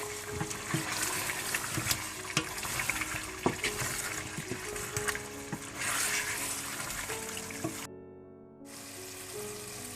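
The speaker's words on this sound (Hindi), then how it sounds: "चिकन को मैंने अच्छी तरह से भून लिया" Chicken for achari murgh fries steadily in a pan with a continuous sizzle and occasional clinks, broken by a brief near-silent gap toward the end.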